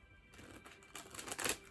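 A deck of tarot cards is shuffled in quick bursts of crisp riffling and slapping, growing busier and louder toward the end, close to the listener.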